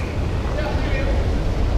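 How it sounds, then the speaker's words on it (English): Big ocean waves on a beach in Varadero, Cuba, heard as a loud, continuous roaring wash of surf blended with wind buffeting the microphone, with no distinct breaks over the short stretch. "Big waves."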